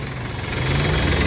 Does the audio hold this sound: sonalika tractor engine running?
yes